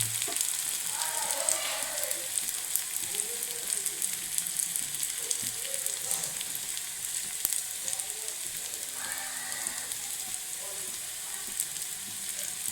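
Buttermilk curry (moru kachiyathu) boils in a pan with a continuous close bubbling sizzle and soft popping. A faint voice comes through now and then.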